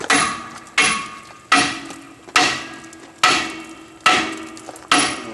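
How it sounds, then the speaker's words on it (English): Seven loud, evenly paced hammer blows knock rust off a seized brake rotor on a car hub, each a sharp close metallic clang with a short ringing decay, with no voices. "I get a real hammer."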